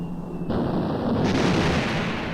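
Wartime air attack sound effect from the Battle of Midway, with bombs striking an aircraft carrier amid anti-aircraft fire: a dense, continuous roar of blasts and gunfire, loud and close, with no voices.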